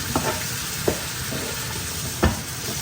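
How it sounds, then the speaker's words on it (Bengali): Shrimp sautéing in a pan for a Bengali home-style dish, with a steady frying sizzle and a few sharp stirring scrapes of the spatula, close and moderately loud, with no talking. "চিংড়ি মাছটা একটু কষায় নিই"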